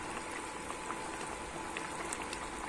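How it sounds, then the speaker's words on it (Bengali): Hilsa fish and eggplant curry simmers in a pot, giving a soft, steady bubbling with faint pops, quiet and close, without speech. "এইভাবে কিন্তু 1 মিনিট আমি কিন্তু ফুটিয়ে নেব।"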